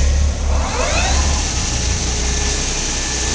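A Bridgeport Romi EZ Path III S lathe, 23 by 120 inches, runs its spindle at 1,000 RPM with a steady, fairly quiet mechanical hum and whine that stays even throughout.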